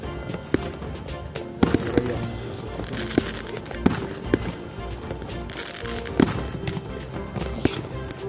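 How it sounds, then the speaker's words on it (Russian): New Year fireworks bursting nonstop: a dense crackle with sharp, loud bangs popping out every second or so, fairly close. "Салют будет просто бомбический."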